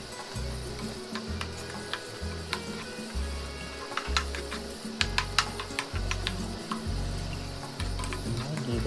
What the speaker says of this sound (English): Give it a quick stir and let it cook a little